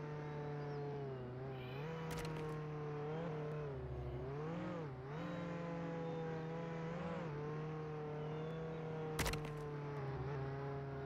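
A car in the Roblox game Jailbreak, played on PlayStation, drives with a steady engine drone whose pitch rises and dips as it accelerates and slows, with a couple of sharp crashes or impacts cutting in.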